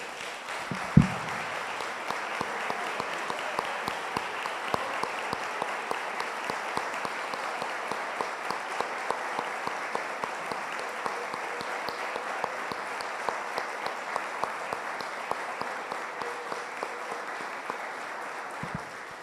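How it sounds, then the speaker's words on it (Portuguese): Church congregation at a Sunday service applauding in a long, even, sustained round of clapping that holds steady throughout with little talk. "Vamos aplaudir o Senhor pela vida."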